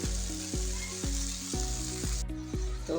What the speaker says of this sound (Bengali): মশলার সাথে নেড়ে মিশিয়ে দেবো। লতিটা কষানো হোক।